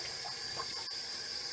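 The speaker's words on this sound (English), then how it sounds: "Put some more hot water." Hot water running from a bathroom tap during head shaving, a steady close hiss of flowing water with a brief faint knock partway through.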